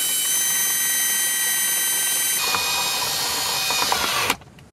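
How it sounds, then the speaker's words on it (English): A power drill with a 3/8 inch bit bores at an angle through the rear of a plastic center console in a 2014-2019 GM truck, a steady high whine that shifts pitch midway, then cuts off abruptly near the end. "Using a 3/8 inch drill bit, drill through the rear of the console on an angle just like so."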